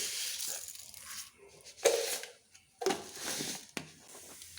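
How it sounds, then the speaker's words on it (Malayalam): Mustard seeds pop in hot coconut oil in a pan for a lentil and drumstick-leaf curry: a few sharp, loud crackling bursts spaced about a second apart over a low sizzle, with no talking. "വെളിച്ചെണ്ണ ചൂടായി കടുക് ഇട്ട് കൊടുക്കാം."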